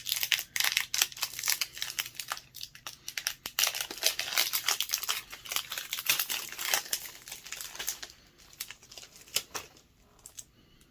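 Magic: The Gathering Jumpstart booster packs being torn open by hand, with dense, close crinkling and crackling of foil wrappers in quick irregular bursts that thin out toward the end, no talking.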